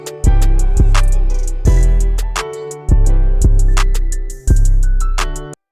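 A punchy electronic beat with heavy booming kicks and bright clicky percussion over sustained synth tones, loud and dense, with no voices.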